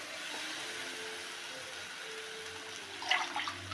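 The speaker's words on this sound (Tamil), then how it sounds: "இதில் ஒரு 1/4 லிட்டர் போல் தண்ணி ஊற்றிக்கிறோம்." About a quarter litre of water poured steadily into a pan of ground coconut for kurma, a close, continuous splashing stream with a brief clatter near the end.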